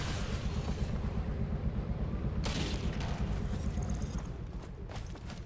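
Gunfire in Tom Clancy's Ghost Recon Phantoms during a Capture and Hold match on Tomsk-9: dense rumbling combat noise with a sharp loud shot burst partway through and scattered cracks, continuous and close.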